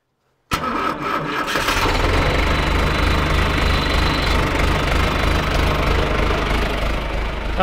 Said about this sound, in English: So I'll go and start the tractor. It'll probably get a bit noisy again.